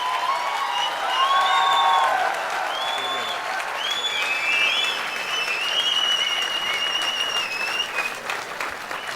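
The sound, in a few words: audience applause at a poetry gathering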